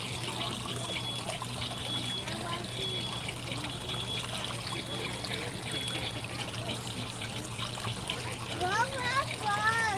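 Inspiration Falls, a water feature inside the EPCOT butterfly house, gives a steady trickling and splashing wash of falling water, with people talking nearby throughout and a bird chirping near the end.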